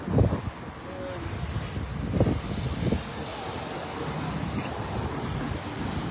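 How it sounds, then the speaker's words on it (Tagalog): Strong outdoor wind buffets the microphone in a steady low roar, with a few louder gusts thumping early on and no clear talk over it. "Lakas ng hangin."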